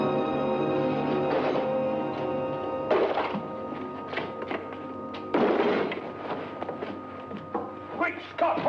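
A box is dropped in a 1942 black-and-white mystery film, giving a few heavy, muffled thuds spaced seconds apart over a thin, hissy old soundtrack.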